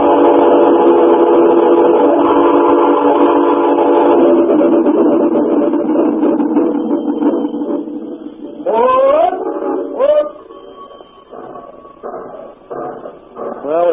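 A radio drama train effect, with a steady rumbling roll under layered whistle tones, then rising whistle blasts and chuffing bursts as the train slows, loud and close throughout.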